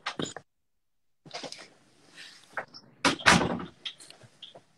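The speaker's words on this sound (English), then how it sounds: "Let me close my door here." An office or room door swings shut nearby, with a short thump and latch clicks, followed by light handling noises and brief rustles in a quiet indoor space.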